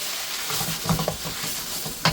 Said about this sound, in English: Now it's time to just mix in all those spices.